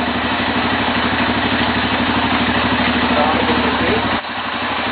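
A motorcycle engine idling steadily after being started, a loud, close, even rumble with a regular pulsing throb throughout, dipping briefly near the end.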